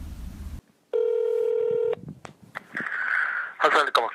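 Telephone tone on a call to a university academic affairs office: a steady electronic tone lasts about a second, followed by brief line noise. A voice begins at the end.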